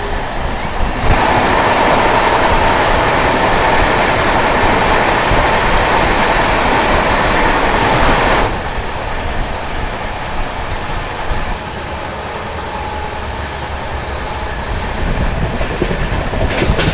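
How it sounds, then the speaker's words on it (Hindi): Ayodhya Cantt Vande Bharat Express rushing past from the opposite direction, a loud, close roar of wheels and wind that cuts off abruptly and settles into a lower rumbling clatter of a moving train. "सामने से आती हुई अयोध्या कैंट वंदे भारत एक्सप्रेस।"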